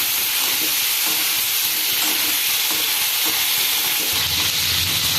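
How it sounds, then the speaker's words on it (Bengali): Eggplant and potato fry together in a pan, giving a steady, close, broadband sizzle with faint stirring scrapes, growing slightly heavier in the last second. "বেগুন আলু সব ভাজা হয়ে গেছে"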